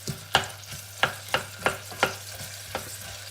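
Onion frying in a pan while cooking, with a steady soft sizzle and a series of sharp utensil scrapes and taps at an uneven rhythm, close and moderately quiet, no talk.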